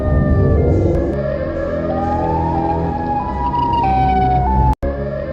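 A loud wailing siren, meant as the Siren Head creature from a children's ondel-ondel chase cartoon, sweeps up and down in long pitch glides over a low rumbling bed and cuts out abruptly near the end.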